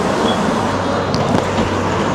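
A bus ride heard from inside the vehicle, with a continuous low engine and road rumble, steady and fairly loud, and no talk.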